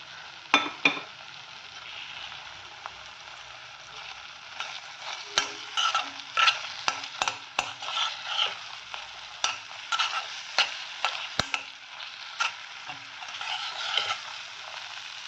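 Thick papaya halwa with added seeds is stirred in a pan, giving a continuous bright sizzle and a scattered run of quick spoon clicks and scrapes, close up, with no talking.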